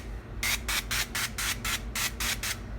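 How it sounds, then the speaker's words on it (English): Grease sprays onto a baking pan in about nine short, rapid hissing bursts, close and fairly loud, over a low background hum. "So I'm going to put them into this pan right here to bake them. So I'm going to go ahead and grease the pan."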